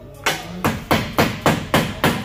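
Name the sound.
hammering on a broken car antenna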